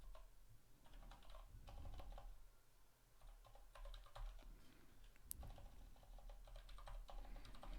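Quiet, steady typing on a computer keyboard during a live stream, with soft clustered keystrokes and brief pauses running throughout, heard alone without talk.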